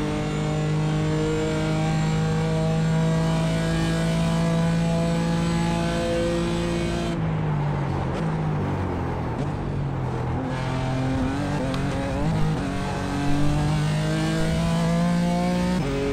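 A BMW race car in the iRacing sim at Circuit Gilles Villeneuve holds a loud, steady high-revving engine drone, dipping briefly as it lifts off and shifts down, then climbing back to full revs. No one speaks.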